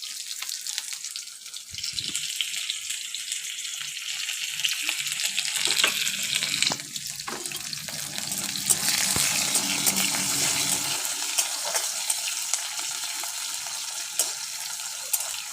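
Chopped onion and garlic fry in a pan for a sambar dal: a continuous hissing sizzle that swells and shifts as the pieces are stirred, with a brief watery rush partway through and no speech.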